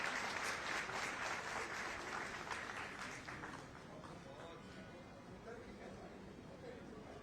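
Audience applause at a public gathering of citizens in Jaipur, loud sustained clapping from a large crowd that gradually thins and fades while a voice carries over it.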